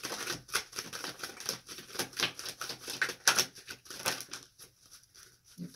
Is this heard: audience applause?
no